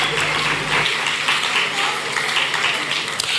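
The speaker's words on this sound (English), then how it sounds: "Let's appreciate her with a big round of applause." An audience at the Ghana Energy Awards ceremony breaks into steady applause, a dense wash of clapping that starts right away and keeps going.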